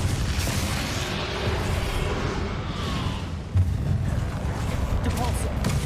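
The Confringo fire spell explodes in the Hogwarts Legacy video game with a dull, rumbling boom. A sharper blast follows midway over continuous low battle noise.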